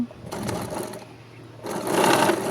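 A sewing machine runs in steady bursts while stitching the shoulder seams of a baby frock for a two-year-old girl, its whirring motor loud and close, pausing briefly before speeding up again.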